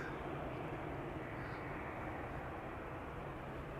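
An Emirates Airbus A380 airliner at Amsterdam Schiphol gives a steady, loud, broadband engine roar that holds evenly throughout with no breaks or talk.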